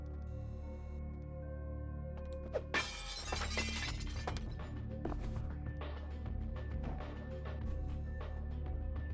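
Glass shatters in the video game Vampire: The Masquerade – Bloodlines, a sudden loud crash followed by a burst of tinkling shards, then scattered small clinks over a steady low in-game ambient hum.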